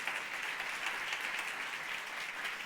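An audience at a conference applauds, a dense steady patter of clapping hands that stays even and moderately distant for the whole stretch.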